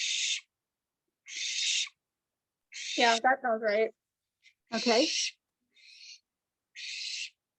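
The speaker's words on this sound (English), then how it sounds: "I think we could hear your owl hissing." An owl gives repeated breathy hisses, each a short burst of noise with silent gaps between them. A person speaks briefly over the middle hisses.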